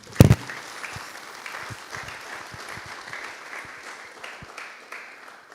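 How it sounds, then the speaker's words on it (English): Audience at a medical school white coat ceremony breaks into applause: a sharp loud hit at the start, then steady, moderately distant clapping from a crowd that continues evenly throughout. "Yes, you can clap."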